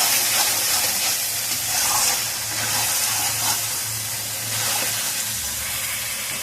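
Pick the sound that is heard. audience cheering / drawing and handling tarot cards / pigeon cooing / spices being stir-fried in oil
spices being stir-fried in oil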